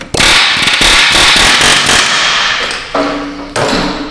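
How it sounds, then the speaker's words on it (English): Rapid, loud metallic hammering from an air hammer striking a bolt on a rusted Subaru subframe rattles continuously for a few seconds, then stops and gives way to a couple of short bursts. "So you can give her a couple whacks with the air hammer."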